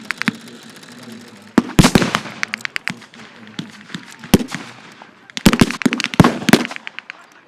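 Sharp pyrotechnic blasts at a battle reenactment crack in irregular bursts, some in rapid clusters, loud and echoing over a low outdoor background.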